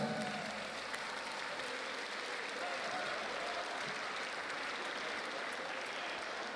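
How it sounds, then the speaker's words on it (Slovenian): Guests at a school graduation ball applaud the dancers with a continuous, fairly distant wash of clapping, with faint crowd voices underneath. "En aplavz za vse plesoče."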